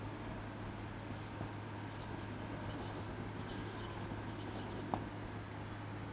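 Chalk or marker writing on a board during a physics lecture on electrostatics, with faint scratchy strokes under a steady room hum.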